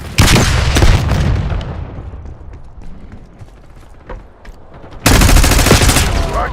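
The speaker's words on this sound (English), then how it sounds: "Grenade incoming." Loud video game explosions and bursts of gunfire from a grenade attack, with a heavy blast at the start, quieter scattered shots and clatter in the middle, then another loud sustained barrage near the end.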